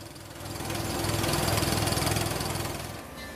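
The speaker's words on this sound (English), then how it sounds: "drill rig. It rotates and pounds and pulverizes its way through rock" A water well drill rig rotates and pounds through limestone bedrock, making a steady, loud mechanical roar with a fast rhythmic pulsing that swells and fades slightly over a few seconds.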